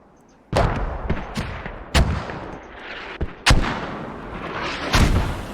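Mortar rounds in a competitive military video game match fire and land in a rapid series of loud, sharp booms, about six distinct blasts over a few seconds, each with a short rumbling decay, with no voices over them.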